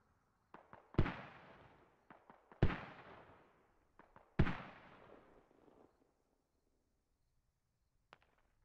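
A BTR armored vehicle firing in the Squad video game, three sharp heavy cannon reports with long ringing decays, each led by smaller pops, followed by a faint final shot after a quiet gap.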